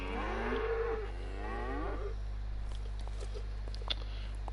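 A cow moos in the DayZ video game, one long low drawn-out moo, fairly close, followed by quieter faint scuffling and patter.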